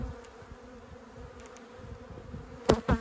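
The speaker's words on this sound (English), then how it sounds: "So as you can see, the bees are just kind of flying everywhere." Aggressive honeybees swarm around an opened hive, producing a steady close buzzing drone with a few louder passes of bees flying near, no talk.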